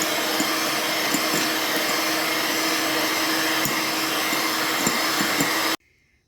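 A steady electric mixer whirs at a constant pitch, beating sugar into a carrot and dates Christmas cake batter, running loud and unbroken for several seconds before cutting off abruptly into near silence.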